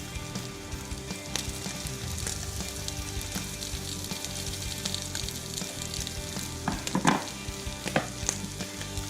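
The ingredients for duck egg fried rice hit a hot pan and fry with a dense, steady sizzle and crackle, close up, with a few stirring clatters toward the end and no talking.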